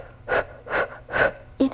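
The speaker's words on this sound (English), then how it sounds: "Inhale 5 times short. Exhale." A person takes several short, sharp inhalations through the nose in an even rhythm during a Pilates abs breathing exercise, close and clear, with no talk over them.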